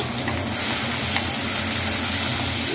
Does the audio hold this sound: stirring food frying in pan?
yes